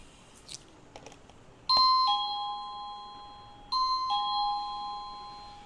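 A cheap wireless doorbell that needs no batteries gives two clear two-note ding-dong chimes when its button is pressed, each tone ringing on and fading out, with no talking.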